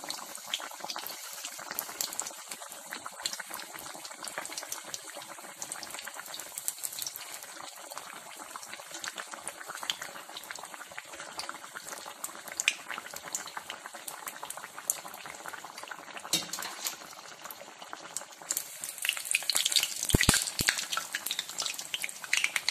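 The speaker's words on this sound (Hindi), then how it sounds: "इस तरह हम सारी टिक्कियां फ्राई कर लेंगे।" Potato tikkis fry in oil in a pan, a continuous soft crackling bubble that holds fairly even and swells slightly near the end, heard alone without speech.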